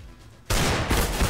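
A Desert Eagle pistol in CS:GO fires, a sudden loud burst after near silence, followed by a dense crackle of further gunfire and echoing impacts.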